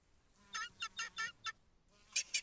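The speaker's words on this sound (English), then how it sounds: "Oh, I hear guinea fowl." Guinea fowl call in a rapid series of harsh, rhythmic cackles, then two more after a short pause, faint and somewhat distant.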